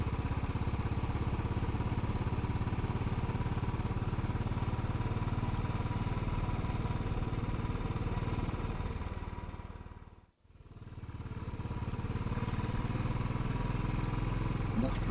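Motorcycle riding along a narrow Cotswolds country lane near Belas Knap, its engine droning steadily and close, with a brief dip to near silence midway before the motor hum returns at full strength.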